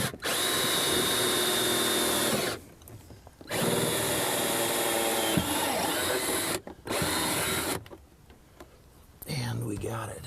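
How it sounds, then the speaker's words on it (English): An electric drill whirs loudly in several long bursts with short pauses between them, drilling a hole through the side of an RV cabinet up close, with brief talking in the gaps. "So I need to drill a hole through the side of this into that cabinet over there."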